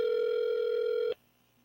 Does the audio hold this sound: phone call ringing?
yes